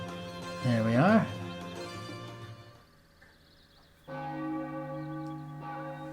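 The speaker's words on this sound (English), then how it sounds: "Classic bell sound." A bell rings in Suikoden V on PS2. Its tolls are clear and resonant and sustain with long ringing tails. A voice talks briefly over the start.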